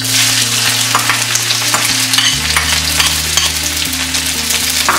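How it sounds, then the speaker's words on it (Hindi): Sliced onions fry in hot oil in a kadhai, a steady close sizzle with occasional stirring scrapes and a constant background hum, with no talking. "जब तक प्याज भून रहा है"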